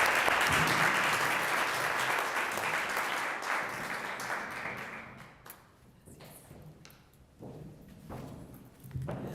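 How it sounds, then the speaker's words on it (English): An award-ceremony audience in Miami gives a round of applause welcoming a newly re-elected school board chair; dense clapping fills the first half, then thins to scattered claps and a few lingering taps. "We welcome with a round of applause Ms. Rojas."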